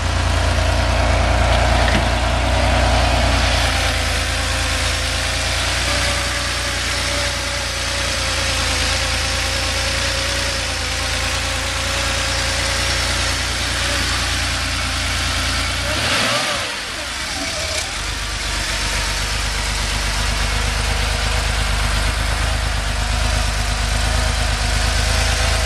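A 1984 Porsche 911 Carrera Targa idles steadily after a cold start, its low, even engine drone running for the full length up close, with a brief dip partway through before it settles back to the same smooth idle.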